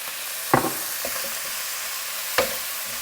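Fish frying in olive oil with herbs gives a steady, close sizzle, broken by two sharper spatters or stirring bumps, with no talking.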